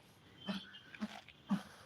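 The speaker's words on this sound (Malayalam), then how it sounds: "ഇതൊക്കെ പട്ടികളുടെ ബഹളമാണ് കേട്ടോ" Dogs near the Varkala temple make short huffing, whimpering noises, three brief bursts about half a second apart, close but faint.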